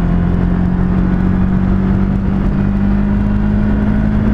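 A Can-Am Ryker 600 three-wheeler accelerating, with a loud, steady engine drone and whir climbing high in the revs, heard close and continuous.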